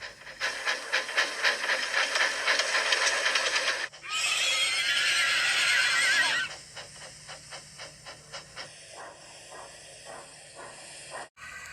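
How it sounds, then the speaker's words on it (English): A horse whinnies loudly in a long, shrill, wavering neigh, preceded and followed by rhythmic snorting and breathy pants. "Everyone listened for the strange neighing"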